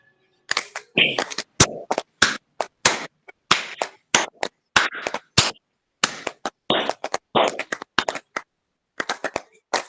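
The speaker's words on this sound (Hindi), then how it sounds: "बजा लें ताली सभी जनों के लिए।" A group of people in an online yoga session clapping their hands in quick rhythmic bursts, sharp and close, with short pauses between sets and no talking over it.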